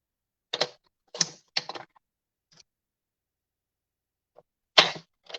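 Crisp slicing strokes of a paper trimmer cutting a sheet of 6-inch cardstock to 5 1/4 inches for a handmade card, a few short separate cuts followed by a pause and one final stroke, close and quiet.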